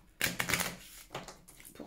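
Cards from a Kay magic oracle deck shuffle and flick in a quick crisp burst of papery slaps, close and fairly quiet, lasting under two seconds.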